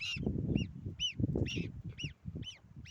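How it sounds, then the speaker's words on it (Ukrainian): Young geese give repeated high, rising peeps and honks over a low, busy background murmur of other birds nearby. "каченята, гусенята бігають."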